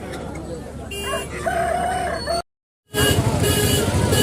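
A country rooster crows loudly twice, with a brief silent gap between the calls, over a busy background of voices and traffic at a poultry market in Anantapur.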